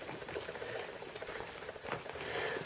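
Dogs lapping up water, quick wet slurping and splashing sounds in a continuous close patter, faint and without talking.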